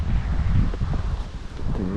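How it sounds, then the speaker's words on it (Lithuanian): Wind gusts buffet the microphone outdoors on a forest trail beside a pond in summer, a steady low rumble of blowing air with no one talking. "Vėjuota, nekaršta."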